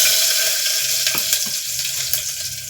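Curry leaves dropped into hot oil with garlic in a pan while cooking rice, giving a steady, loud sizzle with a few small crackles throughout.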